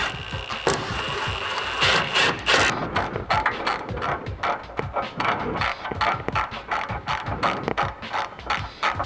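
A ratchet rapidly clicks as it tightens the bolts of rocker guards on a Jeep Wrangler JK, with repeated loud bursts of close metallic ratcheting and no talking.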